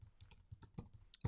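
Rapid clicking keystrokes on a computer keyboard as a web address is typed, about eight close, crisp taps in quick irregular rhythm with no talking.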